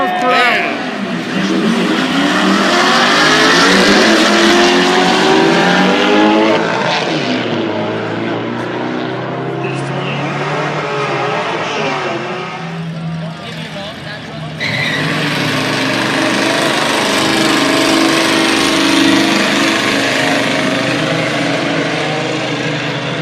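Drag-racing cars roar down the strip at Rocky Mountain Speedway during a midnight drags and drifts event, loud engine howls rising and fading with crowd and announcer voices mixed underneath throughout.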